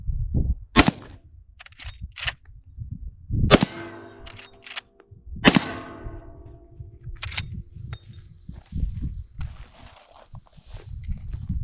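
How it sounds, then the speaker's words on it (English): A Marlin 1895 SBL rifle in 45-70 fires at a tin target and mine belting outdoors, with three or four sharp, loud cracks spaced a couple of seconds apart, each one ringing briefly, and low rustling and footsteps in between. "So I don't know where that second shot went, but the first one we got a pretty good middle hit on that belting"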